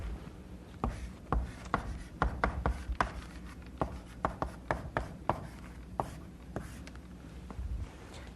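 Chalk or marker strokes on a lecture board, a series of sharp, close taps and scratches in an irregular rhythm, with a faint voice in the room.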